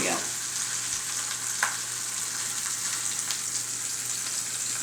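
Sausages fry in a pan, giving a steady, close hiss of sizzling fat with small pops and crackles throughout and no talking.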